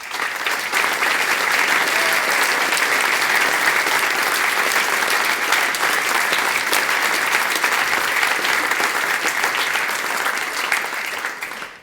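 Conference audience at clojureD 2020 applauding steadily as the speakers are welcomed, a dense, even wash of clapping that holds at the same level for the whole stretch before tapering at the end.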